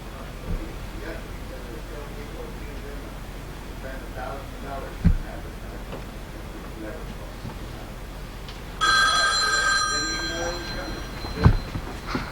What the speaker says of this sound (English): The phone call.